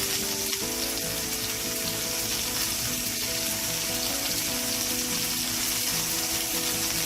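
Pot roast meat browns in a hot pan before slow cooking, giving a constant loud sizzle and crackle of frying that runs without a break and without talk.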